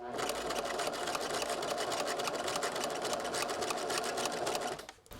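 A sewing machine stitches a bolero collar with interfacing, a close, continuous rapid whir that cuts off just before the end.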